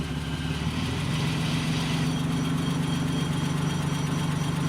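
A BMW car engine runs steadily at a near, constant drone while driving, with no breaks or voices over it.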